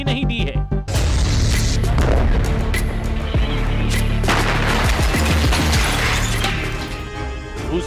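Heavy artillery, tank and rocket fire from the Russia-Ukraine war, a dense continuous barrage of loud booms and rumbling blasts that runs for several seconds after a brief quieter start.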